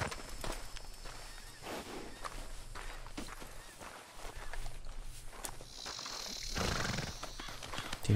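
Horse hooves clip-clopping at a walk through a Red Dead Redemption 2 game world, steady and fairly close, with a brief whinny and a louder rustling burst near the end.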